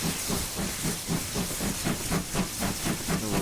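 A GWR Large Prairie steam locomotive in Train Simulator hisses steadily with a rhythmic chuffing pulse, roughly five beats per second, close and continuous with no voices.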